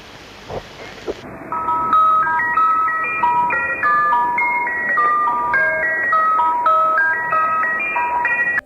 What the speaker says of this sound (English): It's like creepy ice cream music followed by a young girl speaking in German.